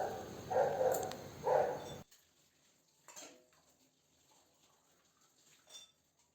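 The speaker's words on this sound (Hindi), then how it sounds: "शाम को भी थोड़े बहुत बर्तन हो ही जाते हैं।" Dishes, pots and pans being washed at a home kitchen sink in the evening, with a few soft clinks and knocks of utensils spread out at a low level, following a short burst of louder noise at the start.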